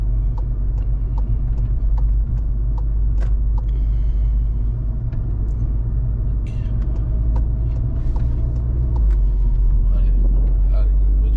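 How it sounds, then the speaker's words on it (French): Engine of a newly acquired car driving on a road as it accelerates, a steady low rumble with rising intensity over about eleven seconds, close and continuous, with brief higher-pitched mechanical ticks. "On va refaire une petite accel dans l'autre sens pour gêner personne."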